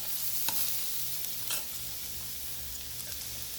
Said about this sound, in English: allow it to fry in the oil for 15 minutes